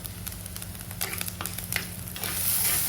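Rice and urad dal roast in a pan, stirred with a few brisk scraping strokes over a gentle sizzle that swells toward the end, heard up close without speech.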